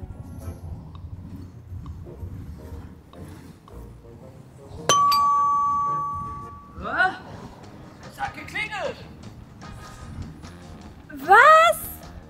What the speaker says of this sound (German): Wer hat hier geklingelt? Ich hab geklingelt.